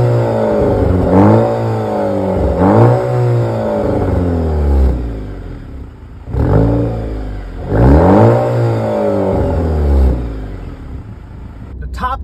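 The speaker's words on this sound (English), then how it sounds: "whilst this is just a 2-liter turbo 4, it sounds pretty nice" A 2023 Maserati Grecale's 2-liter turbocharged four-cylinder engine revs up and down in repeated loud surges, its pitch sweeping upward then falling back, with brief pauses between pulls.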